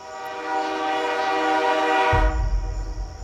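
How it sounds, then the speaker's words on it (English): A sustained, harmonic train whistle blows loudly for about two seconds, then cuts off as the low rumble of rolling rail cars takes over. "the wife heard a train whistle"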